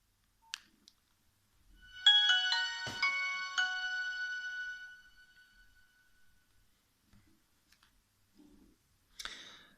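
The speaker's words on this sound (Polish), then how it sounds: "Teraz sobie uruchomimy telefon i sprawdzimy jego podstawowe funkcje, jego dzwonki" A mobile phone plays a short melodic ringtone of bright, stacked electronic tones for a few seconds, framed by a few scattered clicks and button taps in an otherwise quiet room.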